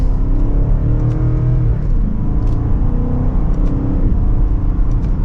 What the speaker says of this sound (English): And with a mild acceleration, we're up to speed.